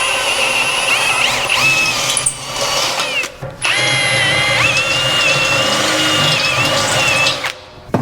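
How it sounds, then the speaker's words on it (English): A power drill bores holes through a steel hanger plate on a Land Rover LR4, whining steadily and close for several seconds with a short pause partway through, then a second long run. "We just need to drill a couple holes."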